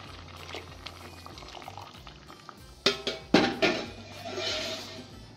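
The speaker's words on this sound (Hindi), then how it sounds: "अब हम इसमें आधा लीटर दूध शामिल कर देंगे।" Half a litre of milk pours into a pot of pumpkin or bottle gourd kheer, a low liquid rush with a few sharp splashing bursts midway, then a steady soft bubbling hiss close by, with no talking.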